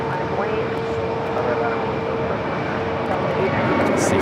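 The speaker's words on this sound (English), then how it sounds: "See freshly painted A321." A freshly painted Airbus A321 airliner at LAX gives off a steady, unbroken jet roar that stays level and fairly distant for several seconds.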